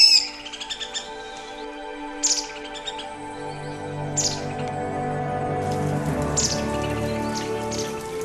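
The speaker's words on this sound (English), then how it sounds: "In the mountains, it has started to rain." Rain patters steadily in the mountains of Taiwan, building toward the end, while birds chirp in short high bursts over it; no voices.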